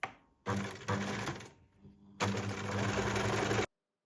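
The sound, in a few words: sewing machine sewing top side seams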